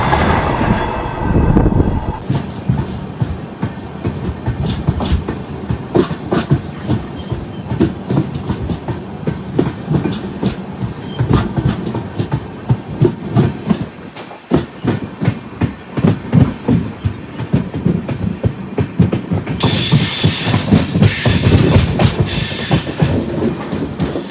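A goods train rolls past on the Konkan Railway, loud and close, with relentless rapid clickety-clack of wheels over rail joints and a rushing roar throughout.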